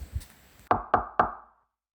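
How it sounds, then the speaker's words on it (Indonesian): Three soft, evenly spaced knocks on a bedroom door at night, close and hollow, following a faint low rumble and ending in silence. "pintu kamarku diketuk pelan"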